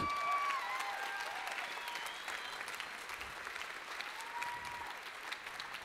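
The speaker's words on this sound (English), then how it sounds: "they deserve a fantastic round of applause for the effort that they have put on so far to come here tonight" Boxing event audience at a white collar boxing night in Singapore gives a sustained round of applause, a dense steady patter of many hands throughout with a faint crowd murmur underneath.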